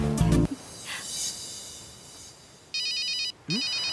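A mobile phone rings with an incoming call, two bursts of electronic ringtone tones after a brief thud and faint background sounds, fairly close and clear.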